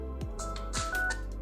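A Samsung A53 5G phone plays a short speaker test, a quick run of several bright electronic tones and beeps lasting barely over a second, heard close and clear.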